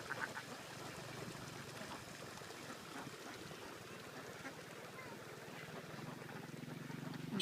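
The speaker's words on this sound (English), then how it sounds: "These ducks are on a rice paddy that's not planted yet." Ducks quack faintly on an unplanted, flooded rice paddy, their scattered calls mixed with running water and distant outdoor ambience, with a voice faintly in the background.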